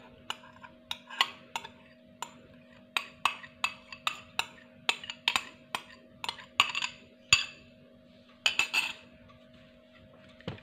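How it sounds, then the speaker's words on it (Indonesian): A spatula scrapes and taps against a bowl while folding cake batter for putu ayu with a turn-and-fold motion, producing a steady series of sharp clinks, close and loud, over a faint constant hum. "Kemudian kita aduk menggunakan spatula ya menggunakan metode aduk putar balik ya seperti ini sampai pewarnanya tercampur rata dengan adonan"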